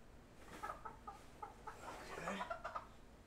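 A chicken clucks in a quick run of short, close clucks, then a busier burst of squawking, faint overall with background noise.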